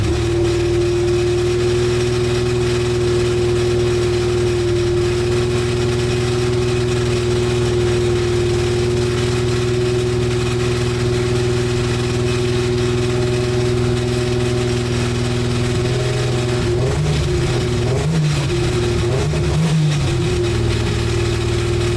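A turbocharged Toyota 2JZ engine swapped into a Tacoma pickup runs loud and close, holding a steady rumbling idle before a few sharp revving blips near the end.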